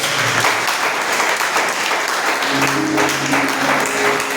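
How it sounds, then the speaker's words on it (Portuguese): A church congregation breaks into steady, dense applause that fills the room from start to finish, with a faint tonal voice or instrument rising underneath in the second half. "as palmas logo agradecem"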